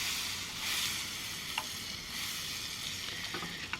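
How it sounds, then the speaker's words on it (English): Butter sizzling and starting to burn in a hot pan while pizza quesadillas cook in a van, a steady close frying hiss with a few faint clicks and taps, no voices. "We're burning our butter."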